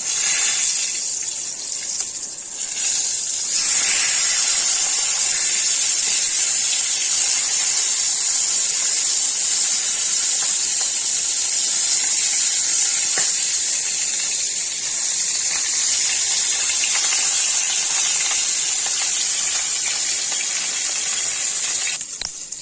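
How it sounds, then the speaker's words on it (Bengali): Katla fish pieces frying in hot oil right after being flipped: a loud, steady sizzling hiss that runs unbroken throughout, with no voices. "মাছগুলো এখন উল্টে দিব"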